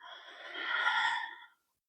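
A long, audible exhale during a beginner core yoga exercise, one breathy rush that swells slightly and then stops abruptly, heard alone.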